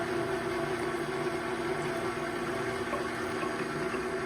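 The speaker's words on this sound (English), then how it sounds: "we're gonna pour in our yeast sugar water mixture" A yeast, sugar and water mixture for New York pizza dough pours into a bowl as a continuous close splashing stream, steady throughout with no speech.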